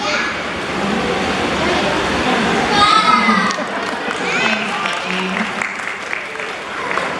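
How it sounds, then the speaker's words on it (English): Audience applause at a seal show at an aquarium, a crowd of children and adults clapping with scattered kids' shouts and chatter, fairly loud and continuous throughout. "Let's take a round of applause."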